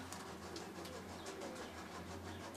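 Pigeons cooing softly over a steady background hum, low-pitched calls repeating through the whole stretch with no voices.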